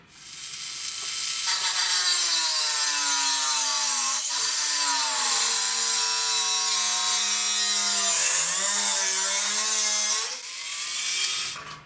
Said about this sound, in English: So what I'm going to do is to cut the flange away